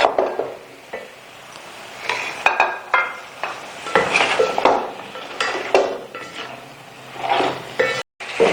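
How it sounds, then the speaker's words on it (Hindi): Beef pieces are fried and stirred in a pot for pulao. Metal utensils scrape and clank in uneven bursts over a low, faint sizzle, close by. "अब हमने जो है वो 3-4 मिर्चें शामिल कर दे, बाकी जो है ना हम दम में लगा देंगे और गोश्त की बोटियों को भूनना है।"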